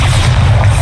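A Bombarda explosion spell in the Hogwarts Legacy video game, a single loud, close, deep boom with heavy low rumble that fills the whole brief moment.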